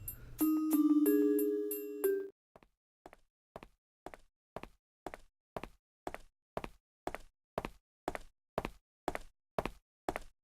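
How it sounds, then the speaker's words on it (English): Knocking on a door in the video game Last Window: a series of sharp, evenly spaced knocks repeats steadily for several seconds after a brief musical chime at the start. "I hear the sound of somebody knocking on the door again."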